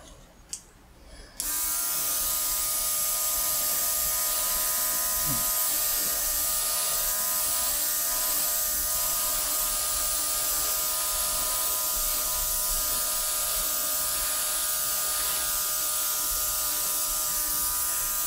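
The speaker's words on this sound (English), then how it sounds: "Handy portable cordless airbrush." A handy portable cordless airbrush starts after a short quiet moment and runs steadily with an even, high mechanical whir, close and continuous for the rest of the clip, with no talking.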